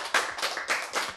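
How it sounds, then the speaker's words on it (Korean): A church congregation clapping during a Bible lecture, several loud, close bursts of hand claps in an uneven rhythm with brief gaps between them, no talking over them. "여기서는 박수가 나와야지."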